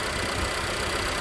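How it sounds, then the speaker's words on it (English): A 2021 Nissan Sentra S four-cylinder engine, around two liters, idles with its hood open in a steady, even hum with no rise or fall over a very short moment. "Typical Nissan 4-cylinder."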